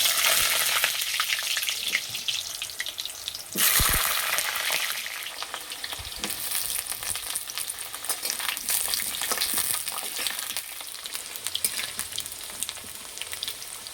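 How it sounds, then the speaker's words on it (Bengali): Potatoes frying in hot mustard oil in a wok, a constant crackling sizzle with a burst as they drop in, then stirring scrapes and clinks continuing steadily without talk. "কড়াইয়ে সর্ষের তেল দিয়ে আলুগুলো ভেজে নেব।"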